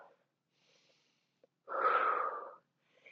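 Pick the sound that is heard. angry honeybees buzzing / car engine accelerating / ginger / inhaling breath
inhaling breath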